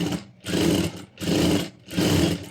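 A portable sewing machine fitted with a gathering foot stitches fabric in three loud, close bursts of rapid, even whirring, separated by brief pauses, with no talking.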